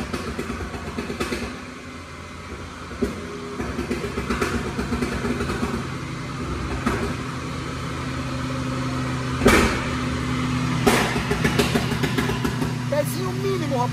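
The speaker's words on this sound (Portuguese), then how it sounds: "você dá uma cutucadinha no acelerador para injetar o mínimo possível pro pipoco não sair pá, pá, pá, pá, pá, e sim pá, pá" A 206,000 km VW Up TSI with stage 3 tuning runs near and loud, its engine rising under throttle with scattered sharp exhaust pops and crackles, while someone talks over it.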